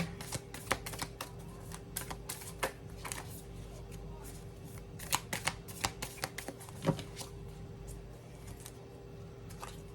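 Tarot cards being shuffled by hand, a long stretch of soft riffling and sharp flicks and snaps at irregular intervals, close up over a faint constant hum.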